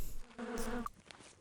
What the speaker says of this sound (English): Bees, I hear bees.